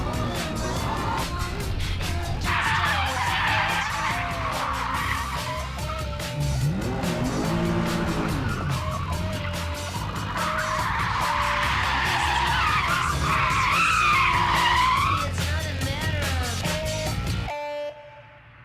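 Race car skidding around a track with tyre squeal, long screeching slides rising and falling over engine roar, close and loud for most of the stretch before dropping away.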